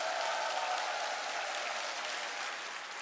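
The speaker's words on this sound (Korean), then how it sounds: "우리의 성공을 위해서 큰 박수 부탁드리겠습니다" A seminar audience applauds in sustained, dense clapping, moderately distant and steady for a few seconds before tapering slightly.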